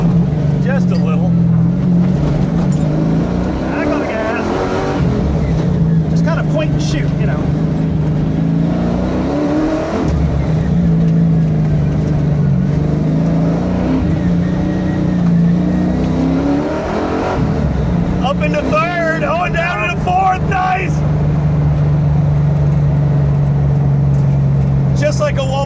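A race car at the Bowtie Nationals, Lucas Oil Indianapolis Raceway Park, repeatedly revving up through the gears on throttle, loud and close, each pull rising in pitch before a shift, with people talking over it.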